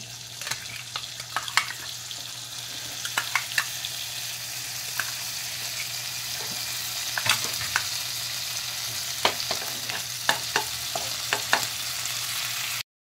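Mixer-ground masala sizzles in melted butter in a pan for paneer tikka, a steady close frying hiss with repeated clicks and scrapes from stirring.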